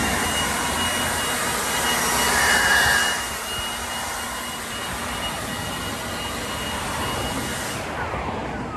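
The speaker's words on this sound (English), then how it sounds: "Then I hit it with the blower" A loud, steady roar from a blower clears debris from a driveway crack before sealing, continuous for several seconds and cutting down near the end.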